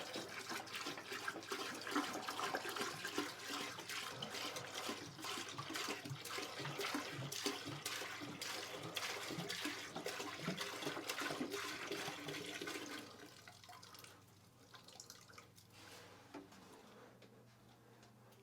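Antifreeze, a whole gallon, pours into a toilet bowl while winterizing a cabin, RV or camper: a steady rushing, splashing stream of liquid runs loud and continuous for about thirteen seconds, then drops to a quieter trickle and settling water.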